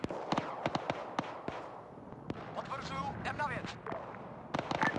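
Gunfire at a helicopter landing zone in a military video game, scattered sharp shots and bursts near and far over a low rumble, with a voice talking amid the firing.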